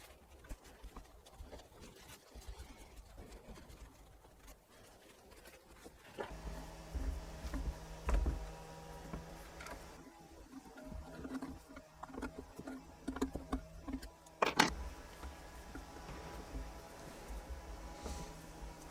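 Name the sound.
distant petrol power tool engine running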